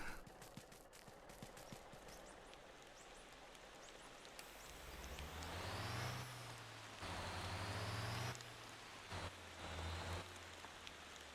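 A rain shower pattering steadily in the truck-driving game Motor Town, mixed with a heavy tow truck's engine droning and revving, an air-brake hiss and vehicle rumble, with no one speaking.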